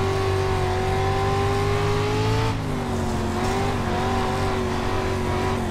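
Dirt street stock race cars roar around a dirt oval in a steady, loud engine drone with shifting revs and a brief dip as the pack passes, no talk over it.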